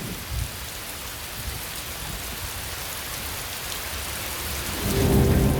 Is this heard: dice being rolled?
no